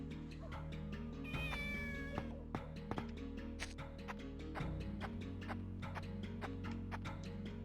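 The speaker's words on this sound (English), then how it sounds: "it's probably the meowing cat" Cat in the video game Shenmue gives a drawn-out meow near the start, set against quiet game ambience with steady ticking clicks and a low tonal hum.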